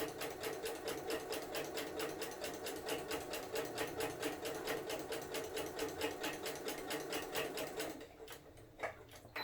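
A sewing machine stitches a rag quilt with a rapid, even, close mechanical chatter for about eight seconds, back stitching to finish, then falls quiet with a faint click.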